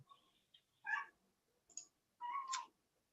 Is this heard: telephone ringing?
no